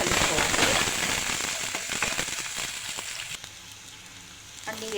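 Dried red chillies and curry leaves sizzle and crackle in hot oil in a pan for a radish fry, loud at first and then gradually fading, with a faint clink near the end.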